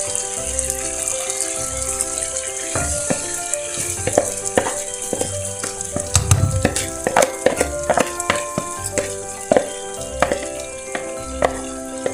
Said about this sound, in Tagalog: Pwede na natin guys ilagay yung ating kanin or rice